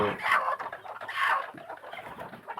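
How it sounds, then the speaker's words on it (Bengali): Several native desi chickens cluck and squawk close by in a busy, continuous chatter as they are let out on a farm in the morning, with scattered sharper calls rising over the flock. "এখন সকালবেলা এগুলো ছেড়ে দিচ্ছি মুরগিগুলো"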